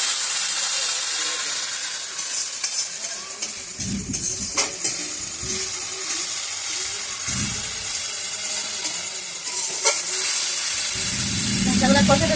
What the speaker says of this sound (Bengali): এখন আমি এর মধ্যে মশলাগুলো দিয়ে দেবো। মশলাগুলো খুব ভালো করে ভেজে নেব।